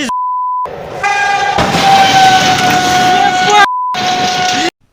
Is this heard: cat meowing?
no